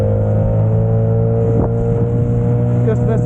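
The outboard motor on a Saturn SD330 inflatable boat runs steadily, a loud, close, constant droning hum with a strong low tone and a brief surge partway through.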